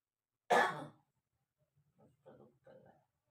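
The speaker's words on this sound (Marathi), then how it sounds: "आणि त्यात तिला खोकला बी लागलाय" A single loud, harsh cough from a woman bursts out, followed by a few quieter murmured sounds trailing off.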